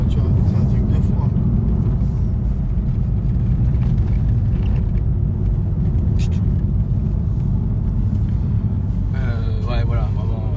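BMW M4 driving hard with a steady, loud in-cabin engine and road rumble throughout, no clear rev peaks, with people talking over it near the end.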